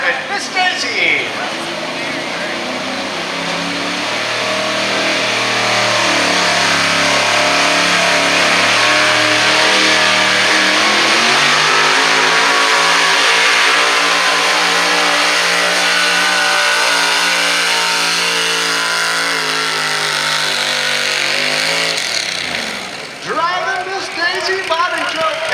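A pulling truck at a county fair truck pull drags a sled, its engine roaring loudly and climbing in pitch in one long sustained run before easing off near the end, with an announcer talking over it.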